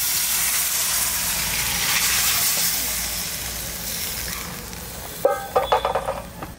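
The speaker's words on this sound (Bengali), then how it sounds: "এইবার ঢাকনাটা খুলে একটু নাড়া দিয়ে দেবো। দেখো এই যে গরম জলটা দিয়ে দিচ্ছি।" Hot water poured into a pan of cooking duck meat, a loud rushing hiss of steam and bubbling that fades, followed by a few sharp clanks of a utensil against the pan.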